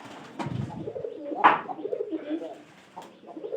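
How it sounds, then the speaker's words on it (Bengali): Pigeons in a loft give a few short, soft coos nearby, the rolling calls broken by brief rustles and a sharper clack partway through. "এই এই কবুতরের ডাক কিন্তু অনেক সুন্দর"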